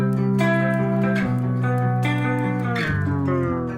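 Dense, sustained distorted electric guitar chords in a plain, unadventurous voicing ring out loud and continuous, shifting between a few chord changes.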